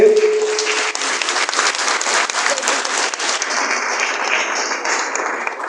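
A school audience claps together in a dense, continuous wash of applause lasting several seconds, loud and close, with a brief voice at the start.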